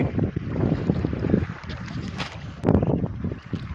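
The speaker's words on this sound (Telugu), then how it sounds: "గాలి కూడా చాలా విపరీతంగా ఉంది" Strong wind buffets the microphone in heavy low rumbling gusts at a shrimp pond in winter, with water sloshing nearby and no voices.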